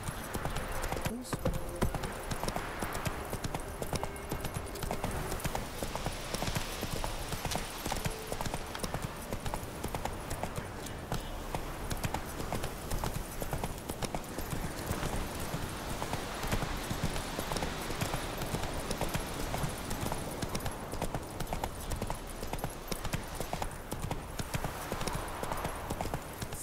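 Roach the horse gallops in The Witcher 3, with a fast, steady clip-clop of hooves running throughout alongside wind and ambient game noise.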